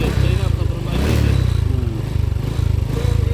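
A motorcycle engine fitted with a metal guard runs at a steady idle with rapid rhythmic vibration pulses, loud and close, with a person talking over it.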